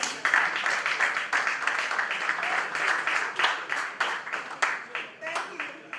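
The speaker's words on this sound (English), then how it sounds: "People should clap for me now." An audience claps and applauds at a talk session, a dense, steady patter of many hands that runs throughout at moderate loudness.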